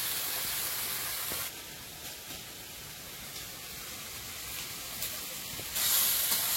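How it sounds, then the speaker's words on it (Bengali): Spice paste of tomato, turmeric, salt and green chili frying in a pan, a steady loud hiss and sizzle that carries through the whole stretch with a slight dip in the middle. "মশলাটা ভালো করে ভেজে নিয়েছি"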